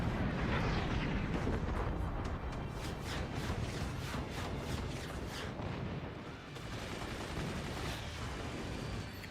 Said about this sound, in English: it is time for Dory to commit cannon fire once again